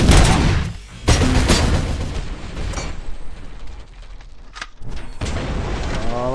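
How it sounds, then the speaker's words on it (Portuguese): Gunfire from the RoboCop: Rogue City video game, loud booming shots in bursts with heavy low rumble and scattered sharp cracks over several seconds. "Eita porra, eu tomei tiro aqui"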